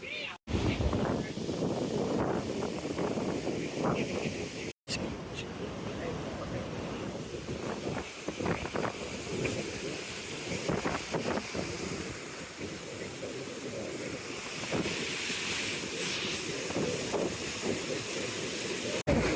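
Steady rushing floodwater after Cyclone Fengal with a broad hiss runs throughout, loud and close, with faint voices and movement mixed underneath.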